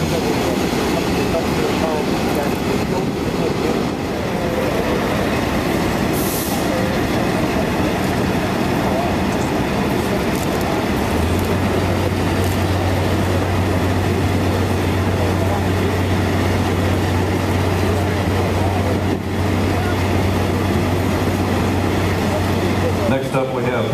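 Diesel streamliner locomotive 6133 running at the North Carolina Transportation Museum, a steady loud rumble and rail noise throughout, with a low sustained engine drone joining in the second half.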